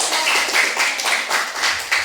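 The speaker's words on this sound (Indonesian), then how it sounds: "Silakan tepuk tangan dulu" Clapping from a class audience during a teaching practice session, a quick run of close claps with fairly steady rhythm and no talk over it.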